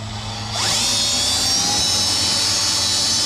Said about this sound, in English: drill a little faster than I would have liked